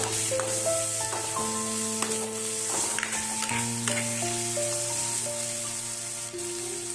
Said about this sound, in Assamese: বিলাহীখিনি দি ভালদৰে লৰাই দিব।